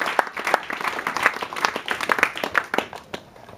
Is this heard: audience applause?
yes